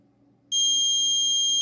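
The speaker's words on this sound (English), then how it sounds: "alarm, okay," Alarm buzzer of a Raspberry Pi Pico vehicle tracking system sounding suddenly as one loud, continuous high-pitched electronic tone, following a brief stretch of quiet low hum.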